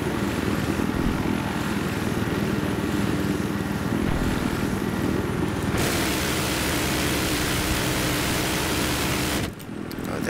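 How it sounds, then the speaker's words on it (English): A video game helicopter drones with a steady, loud engine and rotor roar that holds throughout, then cuts out briefly near the end. "I'm surprised no one else goes for this helicopter."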